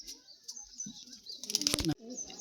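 Laldom pigeons, a male and a female, in a pigeon house: soft cooing and a brief burst of flapping wings near the middle, close by, with faint murmur in the background.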